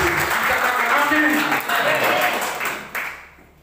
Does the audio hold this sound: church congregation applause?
yes